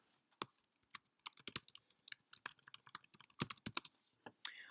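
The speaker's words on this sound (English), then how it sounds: "I'll just start typing and fill it out just so you can kind of see how that works." Someone types on a computer keyboard while filling in an online form for ordering custom labels, a quick irregular run of close, crisp key clicks with short pauses.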